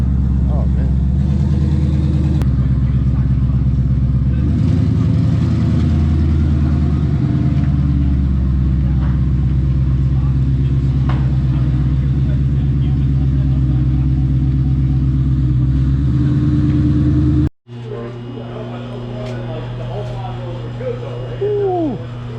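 A Ford Mustang fitted with a Hellion sleeper turbo kit runs on a dyno, its engine droning loud and sustained, pitch shifting through revs before cutting off abruptly; a brief lighter rattle and whine follow.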